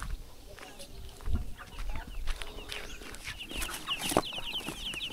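Chickens cluck and squawk nearby in a busy farmyard, with overlapping calls and scratching, plus a sharp squawk near the end and faint voices underneath.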